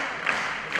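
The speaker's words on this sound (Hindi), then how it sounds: "जैकी दादा भी ताली मार रहे हैं" A crowd of children and adults claps hands at a World Yoga Day gathering in Maharashtra, a brief, dense patter of applause heard close by.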